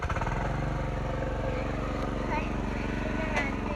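A plowing machine (tiller) engine runs steadily at a farm field, a loud, continuous rhythmic chugging that fills the whole stretch without a break.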